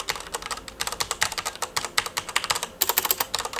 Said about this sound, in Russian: У меня есть Corsair K63, она на красных Cherry. И давайте послушаем, как она звучит